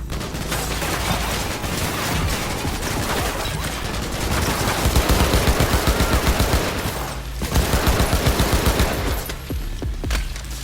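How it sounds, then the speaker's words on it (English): Sustained gunfire in the video game Cyberpunk 2077, dense bursts of rapid automatic shots rattling on for the whole stretch, loud and close, with a brief lull before the firing picks up again. "Taking fire!"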